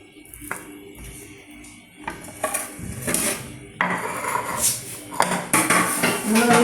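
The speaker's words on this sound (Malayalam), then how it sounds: "പഴവും ക്യാരറ്റും ബീട്രൂട്ടും കൂടെ നമ്മൾ എടുത്തിട്ട് നന്നായിട്ട് മിക്സ് ചെയ്യാൻ പോവാണ്." Banana, carrot and beetroot are stirred together in a pot with a utensil, giving irregular clanks, scrapes and knocks that grow busier and louder as the mixing goes on.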